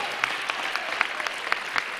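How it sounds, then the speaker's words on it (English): Church congregation at a Sunday morning service clapping for the choir, steady broad applause from many hands with a few sharper nearby claps standing out, continuous throughout. "let's show them by the clapping of our hands"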